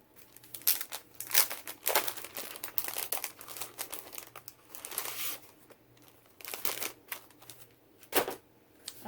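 A sheet of watercolor paper is handled in a crafting setup, giving crisp crinkling and rustling bursts that come and go across the clip, close and fairly quiet, with no talking.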